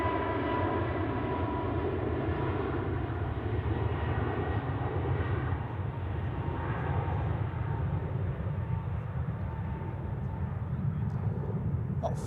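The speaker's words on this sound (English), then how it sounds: "Pegasus, spooling up." Jet engines on an aircraft spool up at Zurich Airport in a steady, loud broadband roar with low rumble and a faint high whine, constant throughout with no talk.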